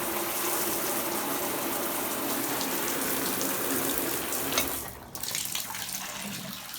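Water gushes steadily from a bathroom tap, a loud, constant hiss and splash that briefly dips and shifts near the end before continuing.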